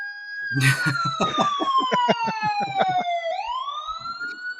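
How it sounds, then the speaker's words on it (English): A police siren sound effect wails with a steadily falling then rising electronic tone, loud and close, with a voice talking over the first part. "How about a police siren?"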